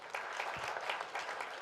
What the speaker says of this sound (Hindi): और हम जोरदार तालियां करेंगे.